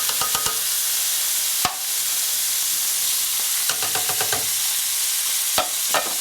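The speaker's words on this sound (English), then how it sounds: "So we can dump our mushrooms into the pan here." Mushrooms for a hamburger mushroom dish sizzle steadily in a hot pan, a continuous frying hiss broken by several sharp scraping and stirring clatters, close and fairly loud with no talking.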